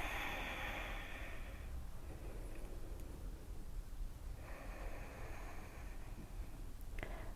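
Slow, audible breathing from a person holding a high lunge yoga pose, two long airy breaths rising and falling over a steady low background hiss, fairly close and quiet, no speech.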